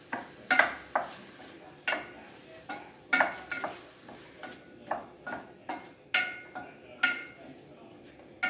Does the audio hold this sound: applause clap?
no